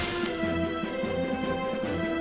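A dense crashing impact effect for the Shatter attack in the RPG Celestian Tales: Old North, loud and sustained over layered game music with no talking.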